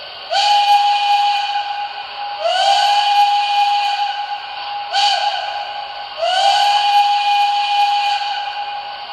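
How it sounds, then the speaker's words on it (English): An MTH Ten Wheeler model train sounds its crossing whistle, loud and near: two long blasts, a short one, then a long one, each a steady steamy tone over a breathy hiss, with no voices. "And your crossing whistle."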